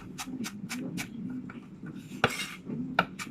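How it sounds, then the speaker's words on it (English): A knife chops finely cut onions on a board for leek and potato soup. Quick, evenly spaced taps come about four to a second, with a sharper knock now and then, close and alone. "If you want to get them smaller, using your hand on the knife, you can just chop down."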